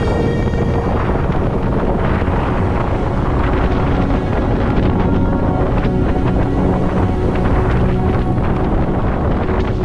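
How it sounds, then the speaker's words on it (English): Strong wind gusting to about 35 knots apparent roars and buffets the microphone on a sailboat, with rushing water and sea noise underneath, loud and continuous with gusty surges. "So it's gusting up to 35 apparent now"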